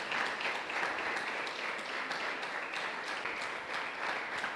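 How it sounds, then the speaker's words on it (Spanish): A church congregation breaks into applause, a full even roar of many hands clapping together at moderate distance, steady throughout. "¿Podemos darle un aplauso al Señor?"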